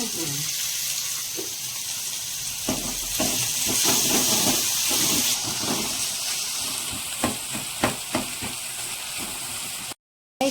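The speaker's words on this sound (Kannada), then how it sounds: "ಇದು ಈರುಳ್ಳಿ ಟೊಮೊಟೊ ಎಲ್ಲ ಫ್ರೈ ಆದಮೇಲೆ" Onion and tomato frying in a pan give a loud, continuous sizzle with steamy hiss, broken by scattered clinks and stirring knocks toward the end.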